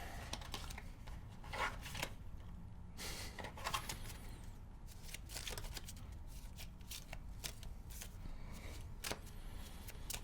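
Repeated riffling bursts of playing cards being shuffled, crisp and close, with a few quiet pauses and faint background noise between shuffles.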